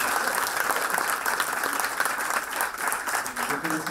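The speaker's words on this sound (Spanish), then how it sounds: "Aplauso, ¿no?" An audience applauds at a music event at Casona de La Florida, sustained clapping mixed with crowd voices and talk.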